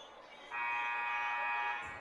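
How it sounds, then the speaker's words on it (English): A horn-like buzzer sounds once in a high school boys basketball gym during Hopkins vs. Totino-Grace, holding steady for just over a second over low arena murmur and fairly faint. "So there's our first buzzer"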